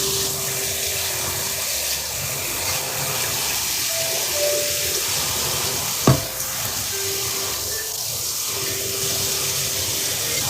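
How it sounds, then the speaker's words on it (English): Potatoes are rinsed under a running kitchen tap, a steady hissing stream of water with faint splashing and one brief sharp knock, no talking. "I'm going to go ahead and rinse these potatoes out some more"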